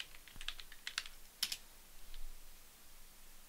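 Quick bursts of typing on a computer keyboard, close and soft, a handful of clustered key clicks in the first second and a half followed by quieter tapping, with no voices.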